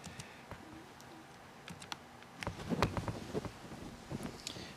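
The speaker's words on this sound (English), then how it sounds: "So let me just maybe type out an example here." Someone types on a computer keyboard close to the microphone, with irregular light key clicks that grow into a denser run of tapping.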